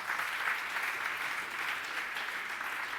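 A church congregation breaks into steady applause, a dense, even wash of many hands clapping together, sustained and fairly loud for the whole stretch with no voice standing out.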